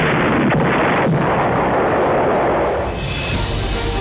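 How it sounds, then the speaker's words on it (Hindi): Heavy artillery strikes and gunfire in the Israel-Hezbollah war, a loud continuous barrage of booming blasts and crackling shots with no pauses, dense and rumbling throughout. "आईडीएफ की स्ट्राइक से दहला हिजबुल्लाह"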